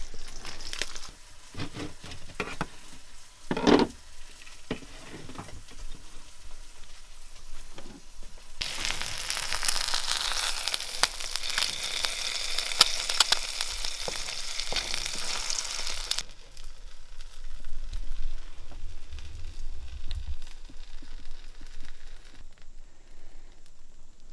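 Egg frying in a pan on an off-grid homestead stove, a soft steady sizzle and crackle that swells loud for several seconds then settles back to a faint hiss, with small clinks near the start.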